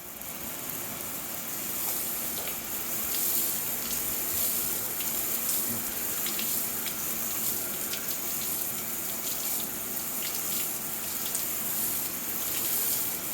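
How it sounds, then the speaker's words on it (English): Steady hose water sprays onto a car panel during a wash, a continuous hissing splash that stays close and even throughout, with no talking. "let's get the water on it"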